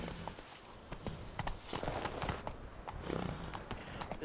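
Horse hooves clip-clop in a steady, quick trotting rhythm in The Witcher 3: Blood and Wine, fairly quiet and close, with no talking.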